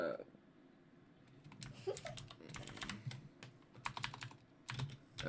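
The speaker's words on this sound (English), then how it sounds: "Am I typing it in wrong?" Fingers tap rapidly on a computer keyboard in irregular bursts of quiet clicks, close by, while a person speaks faintly between keystrokes.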